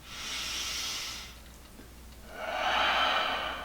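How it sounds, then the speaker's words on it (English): Two slow, deep breaths during a foam roller recovery session, a long airy inhale then a pause and a second breathy exhale, close and soft, with no talking. "just take some big deep breaths"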